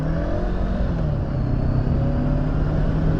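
A motorcycle engine revs under a bridge, giving a loud, close, continuous drone whose pitch shifts only slightly over the stretch.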